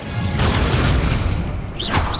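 Incendio fire spell from a Harry Potter video game, a loud booming blast with a crashing, whooshing burst that fills the whole two seconds, with no talk over it.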